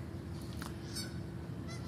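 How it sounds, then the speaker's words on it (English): Geese or similar fowl honk outdoors, faint and somewhat distant, a few short calls over steady background noise. "But lovely birds crowing."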